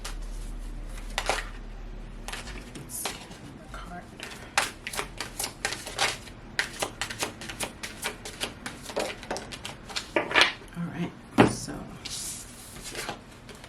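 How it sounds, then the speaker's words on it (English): Tarot cards are shuffled and drawn at close range, making quick papery riffles, slaps and soft taps in irregular bursts while someone talks over them. "Let's get another card."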